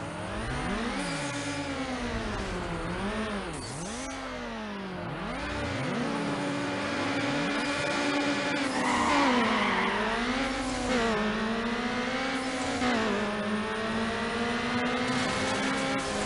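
Race car engine in Need for Speed Underground, the engine rising and falling through repeated gear shifts as it screams close and loud, pitch sweeping up then dropping, under a steady rush of tyre and road noise.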